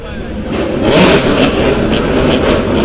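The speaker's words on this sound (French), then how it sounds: "Drivers, start your engine." Indy Lights race car engines start up and rev together on the grid, a loud, sustained engine roar that swells around the first second and holds, with a voice faintly beneath it.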